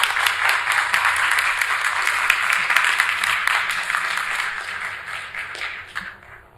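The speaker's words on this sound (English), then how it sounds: "So let's just one more round of applause for Dr. Futuyma." Sustained audience applause at a Darwin Day lecture on bird evolution, a dense wash of many hands clapping that holds steady and then gradually thins and fades toward the end.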